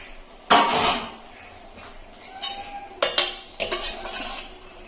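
The lid comes off a pot of steamed white pulao, with the pot handled in a small kitchen: a metallic clank, then softer shuffling and a few sharp clinks of metal on metal, close and clear, with no talking.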